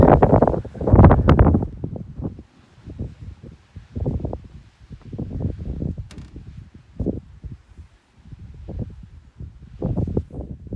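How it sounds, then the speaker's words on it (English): Wind buffets the microphone on the summit of Guadalupe Peak in Texas at 8,749 ft, with heavy low rumbling gusts that are strongest at the start and then come in uneven bursts throughout. "you can stand behind it and it blocks the wind for you"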